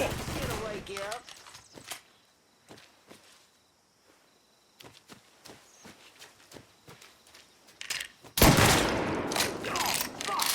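Gunfire in the Mafia III video game: scattered sharp shots and short bursts spread through the stretch, growing into a loud, dense volley near the end, with footsteps and quieter gaps between.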